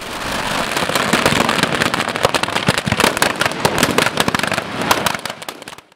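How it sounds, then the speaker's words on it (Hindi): Firecrackers explode as a 51-foot Ravana effigy burns at a Dussehra celebration, a loud dense barrage of rapid crackling bangs over a roaring wash that tapers off at the end. "आग लगते ही 2 मिनट में पटाखों की गूंज के साथ 51 फीट का रावण खाक हो गया।"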